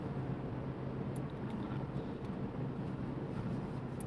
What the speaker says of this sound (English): It's 41 and windy, very windy.